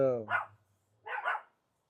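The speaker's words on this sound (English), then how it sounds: "I guess my neighbor's outside. Dogs are going crazy." A neighbor's dogs barking outside, two short barks heard close and loud, the first one following a brief stretch of a voice.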